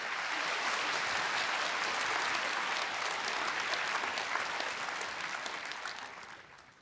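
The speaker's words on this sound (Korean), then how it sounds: "이런 하나님께 감사의 박수를 한번 보내드리십시오" A church congregation claps in thanks to God, a broad, sustained round of applause that stays full for most of its length and then gradually tapers away toward the end.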